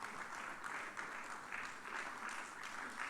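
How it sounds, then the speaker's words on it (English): A university graduation crowd applauds steadily, dense clapping sustained without pause at moderate distance. "You may clap for that if you wish"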